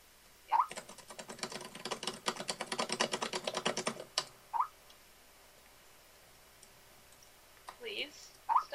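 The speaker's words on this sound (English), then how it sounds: "Please stop typing." Rapid clicks from a computer keyboard clatter for about four seconds and then stop, followed by scattered short sounds and brief voices.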